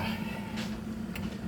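Several cats meow in a home kitchen over a steady low hum. The cries are short, faint and a little distant, with one near 0.6 seconds and a sharper one near 1.2 seconds.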